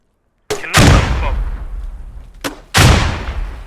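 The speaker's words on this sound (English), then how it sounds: "Grenade field, grenade field." Grenade explosions in a video game battle: two sharp, loud blasts about two seconds apart, each with a booming decay, the second followed by another close detonation.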